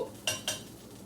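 Food being flipped in a pan, with two quick metallic clatters close together, followed by a quiet low sizzle.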